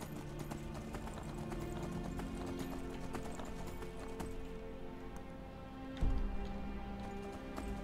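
Horse hooves clip-clop steadily in Skyrim, a quick rhythmic trot with a faint whinny, set against a continuous game music and ambient bed, with a heavier thud toward the end.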